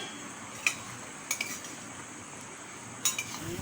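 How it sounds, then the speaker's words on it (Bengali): Spoon stirring Sapla (water lily stem) curry in a pan that is covered between stirs, giving a few soft metallic clinks and scrapes over a faint steady simmer. "ঢাকার মাঝখানে মাঝখানে এইভাবে নাড়াচাড়া করবো"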